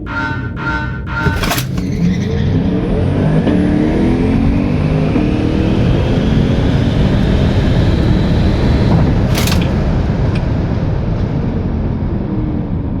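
A 2023 Tesla Model 3 Performance launches against a 2023 Chevy Corvette in a drag race, heard as a loud, steady roar of wind and road noise that holds constant throughout, with a brief sharp knock near the start and another midway.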